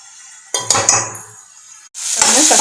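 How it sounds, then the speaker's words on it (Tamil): Tomatoes cook in oil in a pan for a Tamil fish curry: loud clattering metal pan and utensil knocks, then a sudden strong hissing sizzle that fills the last half-second, close by. "நல்லா வேகட்டும் எண்ணெயில் தக்காளி"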